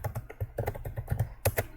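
Code being typed on a computer keyboard, a quick irregular run of close, soft key clicks and taps with a short pause before a final burst.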